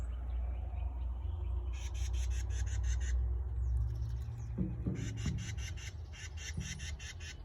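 A mother sparrow squawks near her nest from a hydrangea bush, repeated bursts of harsh calls in two clear runs over a steady low outdoor rumble.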